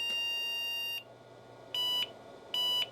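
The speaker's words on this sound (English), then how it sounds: "I'll shut it down and power it on again. And it should beep." An IBM PS/2 Model 30 286 computer's power-on beep: a steady electronic tone sounds for about a second, then two shorter, identical beeps follow at an even pace over faint background hum.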